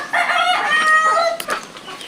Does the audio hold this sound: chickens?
yes